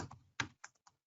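Keystrokes on a computer keyboard as a command is typed into a terminal: a short burst of quick clicks, then three or four separate taps spaced over about a second, close and fairly quiet with no voices.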